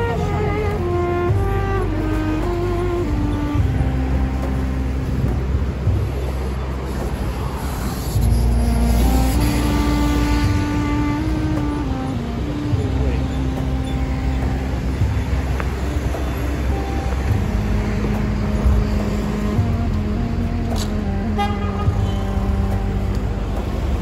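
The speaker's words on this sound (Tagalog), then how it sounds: "Medyo maingay ang kalsada dahil sa trapiko." Busy street traffic outside Nişantaşı in Istanbul, a steady close roar of engines and passing vehicles with tonal horn-like notes and a faint hiss, continuous throughout with no talking.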